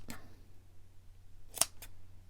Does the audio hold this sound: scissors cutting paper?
yes